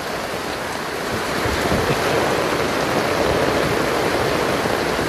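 Floodwater pours in from the street outside a home, a loud, unbroken rushing roar that holds steady and close with no voices over it.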